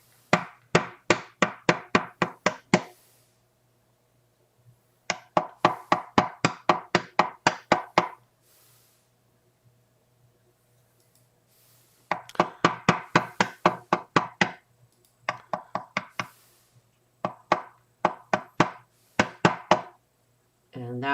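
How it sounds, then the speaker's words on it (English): A rawhide mallet taps plated jewelry wire to form an earwire. The blows come as rapid, steady bursts of crisp knocks, each run of about ten strikes, with short quiet gaps between runs. "this is plated wire, so I would use the rawhide mallet"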